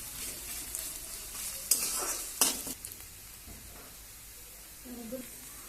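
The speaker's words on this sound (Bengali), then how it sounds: "পেঁয়াজটা একটু লাল লাল করে ভাজা হোক।" Sliced onion, a whole large one, sizzles in a pan for fish curry while a utensil stirs and scrapes, with a couple of sharp clatters and a steady soft hiss beneath.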